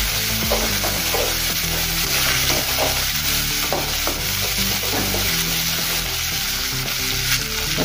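Tomatoes sizzling in hot oil with ginger and garlic, a loud, close, continuous frying hiss broken by the clatter of a spoon stirring the pan.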